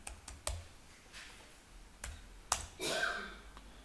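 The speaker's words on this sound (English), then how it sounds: "If I want to commit, I can type Ctrl V, enter." Computer keys tapped in a quick keyboard shortcut, a few sharp separate clicks spread over a few seconds, close and fairly quiet, with a brief rustle near the end.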